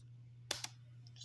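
A single spacebar press on a school Chromebook keyboard, a sharp close click followed quickly by a second lighter tap, heard alone against a steady low electrical hum.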